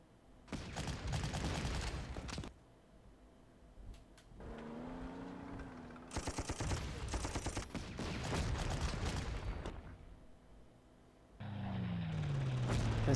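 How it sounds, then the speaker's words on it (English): Artillery fire in the WWII strategy video game Panzer Corps, set in a Norway campaign: repeated loud booming salvos and bursts come in clusters, with brief lulls between them and a rising mechanical whine near the end. "Big hits by our artillery."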